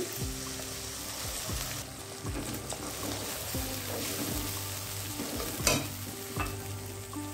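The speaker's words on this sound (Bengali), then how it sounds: "দিয়ে দিচ্ছি সামান্য একটু জল।" Vegetable biryani frying in a pan after a little water is added, with steady sizzling and repeated scraping stirs in a loose rhythm, close and moderately loud, no talking.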